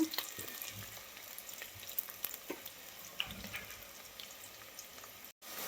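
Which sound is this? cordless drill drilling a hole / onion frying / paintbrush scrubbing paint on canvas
onion frying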